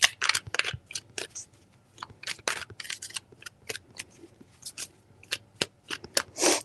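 Quick riffling bursts of a tarot-style card deck being shuffled, crisp papery clicks coming in short, irregular flurries separated by brief pauses, close and fairly quiet.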